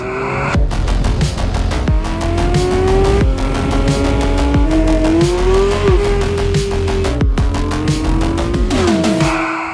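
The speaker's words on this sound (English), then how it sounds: "present the most track-orientated GT car we ever developed to date, the new GT3 RS" A Porsche 911 GT3 RS, a 2024 track-focused sports car, drives hard with its engine revving up and down through gear changes and brief tire squeal, loud and close for the whole stretch with no talk.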